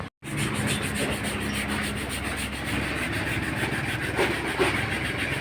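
Steady abrasive rubbing of sandpaper over body filler on a Hyundai Elantra, retouching scratches after scraping on a rock; continuous close scratchy texture throughout, no talking.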